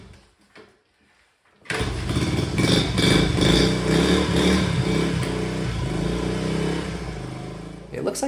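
A 1970 Honda Trail 70 motorcycle engine catches after a quiet moment and settles into a loud, steady idle with a rattling, buzzy mechanical character close to the microphone.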